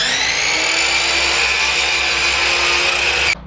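A power saw cuts through wooden side pieces for a laundry folding station, giving a loud, close, continuous high whine with cutting noise that stops abruptly at the end.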